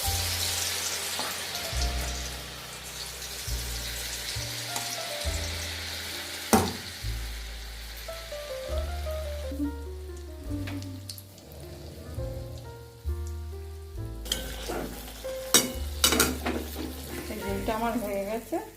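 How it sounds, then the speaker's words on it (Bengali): Khir malpua batter sizzles in hot oil in a wok over a medium flame: a continuous, moderate crackle beneath prominent background music, with occasional sharper pops. "এবার আমি কড়াই বসিয়ে দিয়েছি মিডিয়াম ফ্লেমে, তেলটা গরম হয়ে গেছে। এবার আমি এগুলো দিয়ে দেব।"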